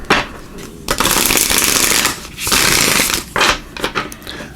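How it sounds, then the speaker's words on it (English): Oracle cards being shuffled by hand, several loud, close riffling bursts separated by short pauses, with no talk. "Start off giving these a good shuffle, and then we'll jump right in."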